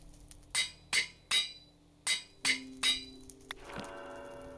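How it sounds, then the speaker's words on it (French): A glass bottle being cut: a series of about six sharp, ringing clinks and taps at a steady pace, close and fairly quiet, followed by a brief crack and a faint lingering ring. "Et on va scier."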